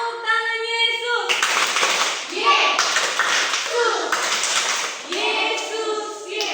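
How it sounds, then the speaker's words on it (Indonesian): Children in a Sunday school class perform a clapping chant, bursts of rhythmic hand claps alternating with group chanting voices and a leader's sung lines, close and lively. "Tepuk tangan Yesus."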